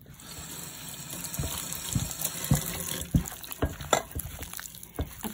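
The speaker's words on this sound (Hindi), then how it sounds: "इसके अंदर मैं थोड़ा सा पानी भी डालूंगी" Water is poured into a chilli chicken mixture in a home kitchen, a sloshing gush with splashy bursts and clinks over about five seconds, fairly close and loud, no talking.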